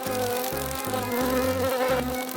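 A fly buzzes steadily and loudly up close in an animated scene, its drone pulsing in short repeated bursts with no talking over it.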